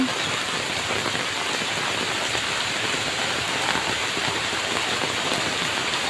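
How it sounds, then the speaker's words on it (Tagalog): Heavy rain pours steadily on an outdoor garden area in cold weather, a dense continuous hiss of drops striking leaves, an umbrella and surfaces close by, with no talking. "lakas na ng ulan."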